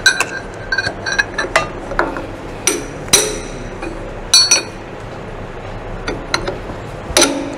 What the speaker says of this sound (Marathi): थोडा हॅमरचा फटका देऊन आता स्पॅनर एका बाजूला व्यवस्थित बसवलेला आहे आणि याचे 1-2 फटके मारतो फक्त की तो व्हील घट्ट होण्याकरता